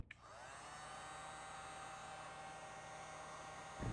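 A heat gun blows steadily while heating expansion PEX-A pipe at a fitting, giving a constant airy hum with a faint start click, fairly quiet and alone throughout.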